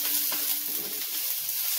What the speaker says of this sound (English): throw in onions and peppers. Caramelize these a little bit.